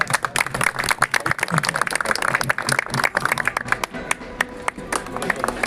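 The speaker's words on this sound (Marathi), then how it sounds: "टाळ्या करा।" A crowd applauds at a political rally for an NCP campaign welcome, the clapping loud and ragged in bursts, mixed with cheering voices.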